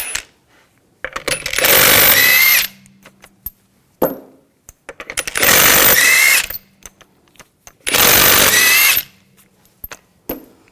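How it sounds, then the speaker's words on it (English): Three long bursts from a power impact tool spinning off 19mm lug bolts on a 2000-2006 BMW X5 front wheel, each loud whir lasting about a second and a half, separated by short pauses with faint clinks between. "use a 19mm socket. Take the lug bolts off."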